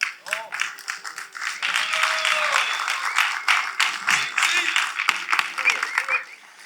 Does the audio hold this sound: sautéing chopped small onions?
no